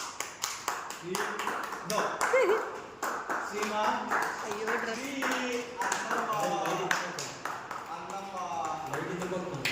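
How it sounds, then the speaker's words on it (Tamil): A small group claps hands in scattered bursts, sharp and close, with the loudest clapping early on and more later, while people talk and call out over it throughout. "கை தட்டுங்கப்பா, கை தட்டுங்கப்பா."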